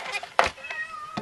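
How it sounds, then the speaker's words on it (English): A house cat gives a few short, faint meows in quick succession, close by in a quiet room. "you probably hear my cat again."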